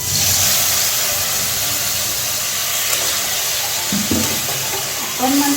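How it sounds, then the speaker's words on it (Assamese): A little water poured into chicken frying in a pan for a dry fry bursts into a loud, steady hiss and sizzle that fills the whole stretch up close. "অকণমান পানী দিছোঁ ইয়াতে"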